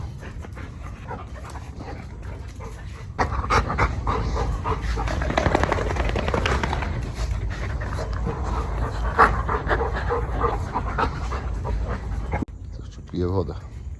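Several dogs pant heavily and whimper close by in a steady stream, with a voice speaking at times over them.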